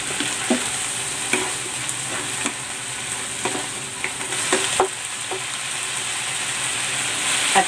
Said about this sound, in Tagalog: Ilalagay ko na rin dito yung patatas.